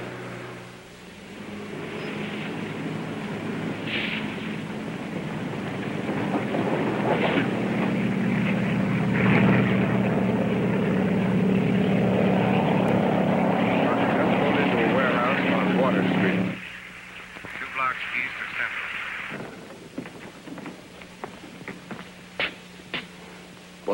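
A helicopter's rotor and engine roar rises and holds steady for about fifteen seconds, then cuts off abruptly, followed by scattered knocks and faint sounds.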